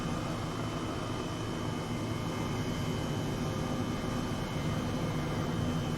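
An Airbus H135 helicopter in a flight simulator game settles onto a helipad, its steady dense rotor and turbine drone filling the scene at constant loudness with no talk.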